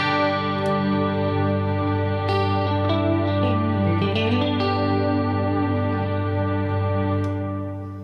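Sustained guitar chord held in a wash of reverb from an Axe-Fx reverb hold switch, shimmering and layered with occasional picked notes ringing over a steady drone that fades slightly at the end.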